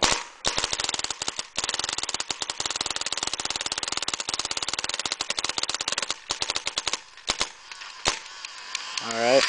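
An Ego 08 paintball marker running an uncapped ramp, fed by a Halo V35 hopper, fires long, rapid, close strings of sharp pops, pausing briefly before a final short burst and a fading mechanical whine.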